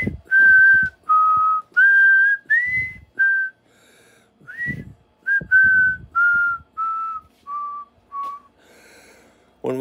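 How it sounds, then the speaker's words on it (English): A person whistles a slow tune in a series of clear, sustained notes separated by short pauses, loud and close, with a few faint background knocks between phrases. "You got the enough wind to whistle?"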